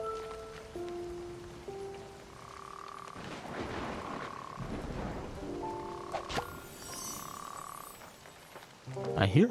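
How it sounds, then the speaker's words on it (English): Video game frogs croak in short repeated tonal calls over a soft, rain-like game ambience, with faint background tones and louder clatter at the end. "It sounds like there might be more frogs in this area."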